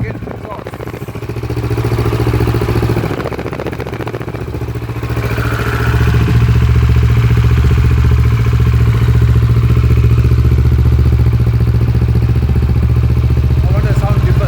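A motorcycle fitted with an aftermarket exhaust idles close by, a loud, steady clattering rumble that swells slightly after a few seconds and then holds even.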